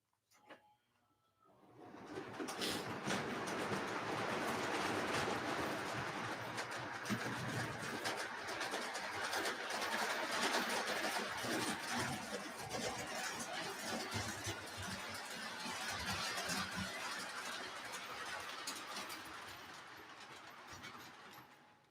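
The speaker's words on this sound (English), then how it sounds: "I'm actually gonna turn this train around." A train engine rumbles and clanks steadily at a moderate distance while being turned around on the tracks, a broad continuous mechanical roar that swells and holds for the whole stretch, with faint bird calls nearby.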